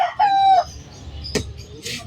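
A large black Ancona chicken at a Malabon pet market lets out a short, harsh crow at close range. It is followed by a couple of brief clucks and some market background noise.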